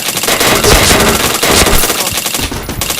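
Rapid, continuous machine gun fire from a shooting video game, loud and dense bursts running throughout with a brief dip near the end.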